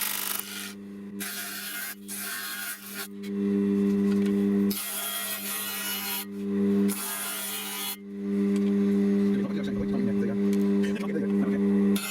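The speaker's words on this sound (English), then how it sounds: "Quick rub over with a sanding block." Rough, rasping strokes of a sanding block on the wood of a Ben Buckle Junior 60 model aircraft come in several bursts over a steady low machine hum, with some talking in the background.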